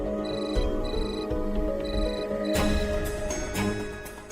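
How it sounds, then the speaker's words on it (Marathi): A phone ringtone repeating in short evenly spaced electronic bursts, fairly close and steady, with a few louder clatters partway through. "आरोही फोन उचल, फोन उचल आरोही."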